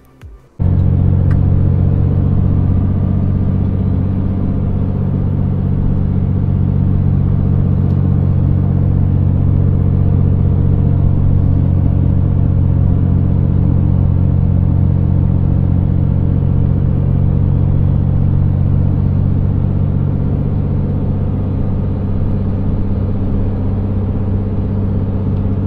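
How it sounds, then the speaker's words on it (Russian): A Scania Super 500S truck engine labours up a hill in a loud, steady low rumble that holds constant for the whole stretch, with no talk over it. "И вот вашему вниманию сейчас отрезок, как я пёр в эту гору."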